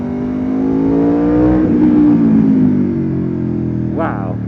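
An Aprilia Italian motorbike engine revs nearby, climbing in pitch, holding a loud throttled roar, then easing back, with a brief sharp rising blip near the end.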